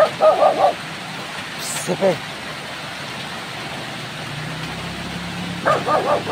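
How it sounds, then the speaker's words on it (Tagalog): A dog barking nearby in a few short clusters, at the start, around two seconds and near the end, with a faint engine hum and a brief spoken word between. "Maingay po yung aso namin."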